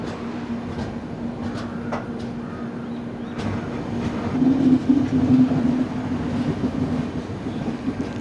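The 12258 Garib Rath Express, an AC train running from Kochuveli to Thrissur on the Kottayam line, gives a continuous rolling rumble with occasional wheel clatter and a low steady hum, swelling louder midway and heard from on board.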